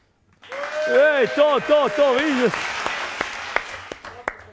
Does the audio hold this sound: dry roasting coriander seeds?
no